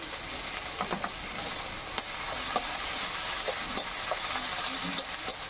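Ginger garlic paste and onion paste frying in a pan for a fish curry, a soft continuous sizzle with scattered scraping and stirring clicks, fairly quiet and close.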